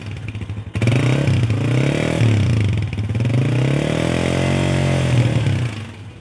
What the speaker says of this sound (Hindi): हम इसका भी साउंड टेस्ट करवा देते हैं आपको, ज़रा कंपैरिजन भी हो जाएगा दोनों बाइक के साउंड का